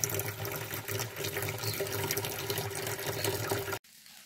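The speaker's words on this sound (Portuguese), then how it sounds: "Aqui já tem um fluxo de água." Spring water flowing out of the ground on a rural smallholding, a steady close rushing and trickling that runs continuously for about four seconds before cutting off abruptly.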